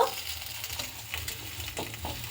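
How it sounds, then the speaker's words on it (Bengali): Onions fry in a pan with a soft, continuous sizzle and crackle. Faint scraping of stirring can be heard. "এখন পেঁয়াজটা ভেজে নিচ্ছে লাল লাল করে।"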